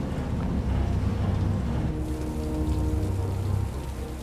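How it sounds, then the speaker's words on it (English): Steady rain patters on a surface in the video game Detroit: Become Human, with a low rumbling undertone, a continuous wash of drops with no voices. "It kind of looks like rain to me."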